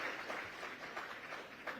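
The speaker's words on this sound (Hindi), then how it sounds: "जोरदार तालियां मैथिली के पिताजी के लिए" Faint applause rises in an interview setting for Maithili's father, a soft, continuous patter of clapping heard from a distance.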